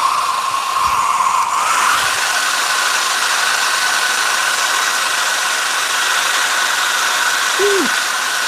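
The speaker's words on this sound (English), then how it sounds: "let me give this a quick hit with a hairdryer" A hair dryer blasts over a landscape rendering drawing, a close, loud, continuous whooshing roar that holds steady throughout with a slight shift in tone early on.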